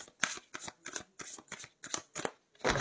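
Tarot cards are shuffled for a five-card reading in a run of about eight quick riffling bursts, evenly spaced, close and crisp, with brief pauses between them and no voices.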